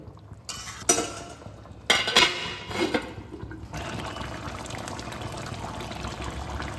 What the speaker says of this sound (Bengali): ডিমগুলো এই গ্রেভির মধ্যে দেওয়া হয়ে গেছে, আমি খুব হালকাভাবে নেড়ে দিচ্ছি